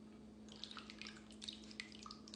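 Buttermilk aspic mixture with bits of celery is poured into a ring Jello mold, giving faint, soft drips and splashes over a steady low hum.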